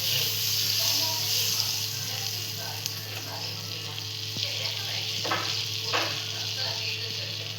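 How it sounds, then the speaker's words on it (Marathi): Butter sizzles on a hot tawa griddle while a sandwich is prepared, giving a steady broadband hiss with a few brief crackles and scrapes, close and moderately loud throughout. "इथे आपण तवा तापवा ठेवलेला, बटर लावून घेतोय आपण."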